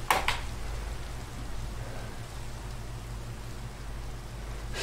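Steady rain in the Minecraft video game, a continuous even hiss of falling drops throughout, with a brief click at the very start.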